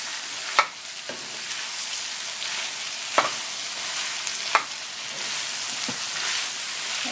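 Sausage shawarma frying in a pan gives a steady hiss and sizzle, with a few sharp scrapes from stirring standing out above the continuous frying.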